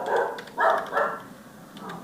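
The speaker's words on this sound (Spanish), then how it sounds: "Uy, los perros, perdón." Dogs barking indoors nearby, three or four loud, full barks in quick succession with a softer trailing woof.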